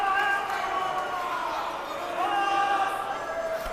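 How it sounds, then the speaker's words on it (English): Crowd at a men's college basketball game, Oregon Tech against the Lions of Multnomah, yelling in a gym, with sustained vocal shouting and a commentator talking over the noise. "You hear the crowd yelling flop."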